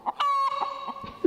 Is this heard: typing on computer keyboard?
no